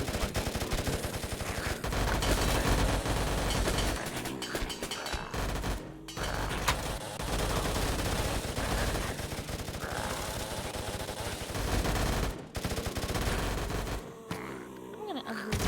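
Rapid, loud bursts of ray gun fire in a VRChat game, dense and sustained across most of the stretch with brief breaks, crowded by other effects.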